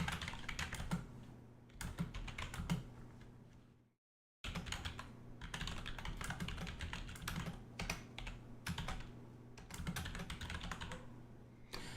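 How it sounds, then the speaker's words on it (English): Rapid clicking of keys on a computer keyboard, steady and close, with a brief silent break partway through before the typing resumes. "So I keep typing so you can see the error"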